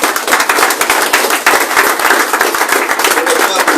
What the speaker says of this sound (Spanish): Para un aplauso al Rey de Reyes.